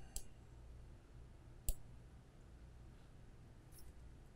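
Two or three sharp, quiet computer mouse clicks, one crisp click standing out near the middle, set against faint room hiss with no talking, as a photo-editing tool is selected.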